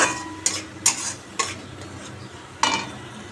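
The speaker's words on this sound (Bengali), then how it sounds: "মশলাটা ভালো করে কষাবো, যতক্ষণ এই মশলা দিয়ে তেল না বেরোবে ততক্ষণ কষিয়ে যাবো।" Spice masala of turmeric, salt and cumin powder being stir-fried in oil in a pan, a faint low sizzle under a handful of sharp scraping strokes of a spatula, close by.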